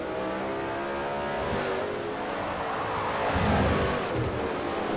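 Race car engines in Forza Motorsport 4 during a development series race, a dense, continuous roar of several revving motors that swells slightly as a car passes, with no voices.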